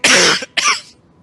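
A voice imitates a cough: two harsh, breathy bursts close to the mic, a long one followed by a shorter one, then quiet.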